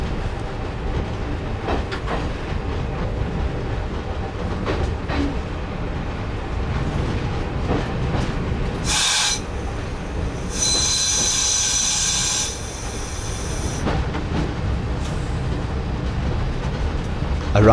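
A train in a railway simulator game rolls steadily into Rawtenstall station at the north end of the line, with a continuous rumble, clattering wheels and bursts of high wheel squeal as it slows, no talking.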